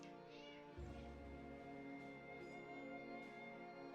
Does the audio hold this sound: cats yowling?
yes